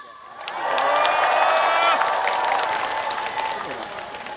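A large audience at a trot concert in Ulsan bursts into loud sustained applause and cheering with whoops, swelling quickly and then holding steady, with a voice faintly over the crowd.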